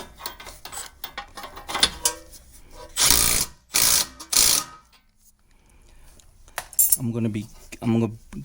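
A ratcheting wrench tightens a castellated nut on a tie rod end of a 2007 Honda Civic, with quick clicking bursts separated by pauses and a few louder rattling strokes, close and clear.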